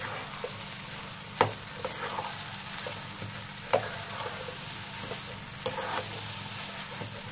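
Minced meat with spices fries uncovered in a pan, a steady low sizzle broken by a few sharp scraping stirs of a spoon against the metal.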